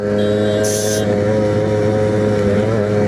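Suzuki Shogun motorcycle engine running at a steady idle-to-mid rev, a constant buzzing two-stroke drone with strong harmonic tones, close and loud, with a brief high-pitched squeal partway through.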